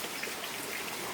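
Steady rain falling on a morning, a soft, even hiss of drops on surfaces that holds constant throughout, close and moderately quiet with no voices.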